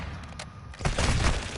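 A Semtex grenade goes off in Modern Warfare II, a loud burst of gunfire and explosion arriving after a quieter opening and rolling on to the end.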